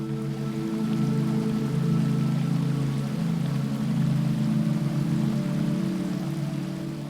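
A powerful waterfall in Brazil roars as a steady, dense wash of falling water, loud and unbroken throughout with a low rumbling undertone.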